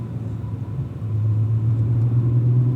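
A Cadillac V-series performance car rumbles at a low, steady pitch as it brakes down into the first turn of a racetrack, the engine note deepening and holding close and loud.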